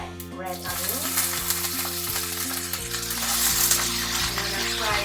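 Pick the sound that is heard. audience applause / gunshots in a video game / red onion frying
red onion frying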